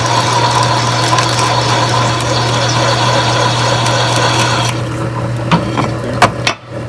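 A step drill bit enlarges a hole in the steel frame of a 1970 Dodge Challenger with a steady, close mechanical hum that stops partway through, followed by a few light clicks and taps.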